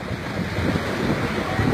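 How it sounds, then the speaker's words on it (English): Floodwater rushes through a street in Port Maria, Jamaica, a loud, steady roar close to the microphone with buffeting wind noise and no pauses. "Water coming for you."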